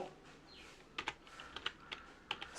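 A command is typed into a terminal on a keyboard, with soft, close key clicks coming in short irregular clusters over faint background noise.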